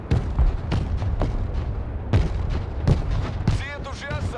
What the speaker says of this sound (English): Another artillery strike.